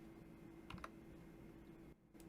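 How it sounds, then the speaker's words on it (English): Keystrokes on a computer keyboard tap faintly and intermittently through a steady background hum, with a brief cluster of clicks near the middle of a short stretch. "I'm tickled when you type, Glenn."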